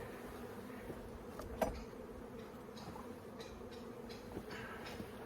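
Honey bees hum steadily around backyard beehives, a continuous close buzzing with occasional louder passes near the microphone and faint handling noises.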